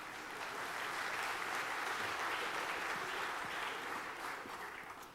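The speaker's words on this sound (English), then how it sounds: "give a warm round of applause to Janine" Warm, steady round of applause from the audience at a horse-racing awards ceremony as the host returns to the stage, continuous clapping at moderate distance that swells and then tapers off at the end.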